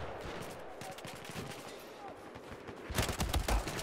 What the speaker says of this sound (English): None of my hipfire shots nailed him.